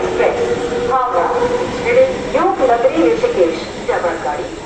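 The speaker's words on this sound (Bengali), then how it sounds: "এই গাড়ি আমাদের ঢুকে পড়লো, যাওয়ার জন্য প্রস্তুত আমি।" The Doon Express pulls into Chandannagar station with a steady rail rumble, sitting beneath continuous nearby talk throughout.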